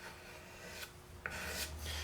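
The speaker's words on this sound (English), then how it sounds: "just grab an old razor that you were using earlier, maybe on the neck or something, and then just scrape this stuff up" An old razor blade scrapes excess glue off a wooden guitar body, giving a few short, quiet rasping strokes close by in an otherwise still workshop.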